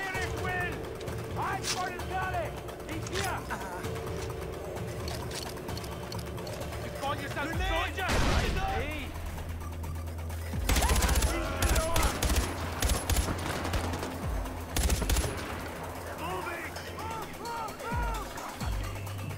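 Rapid automatic gunfire bursts from a first-person shooter set in Far Cry 4's Kings Bridge area, with loud clustered volleys in the second half over game noise and someone talking throughout.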